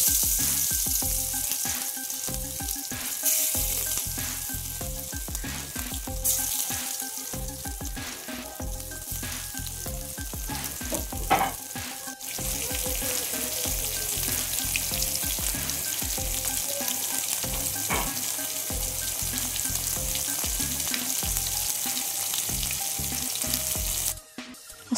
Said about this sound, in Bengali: একটা একটা করে আমি এখন মাছগুলো তুলে দেবো।